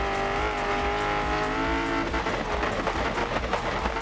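A rally car in Dirt Rally 2 holds its engine hard on the rev limiter, a loud, steady buzzing drone that stutters and breaks up toward the end, with no voices over it.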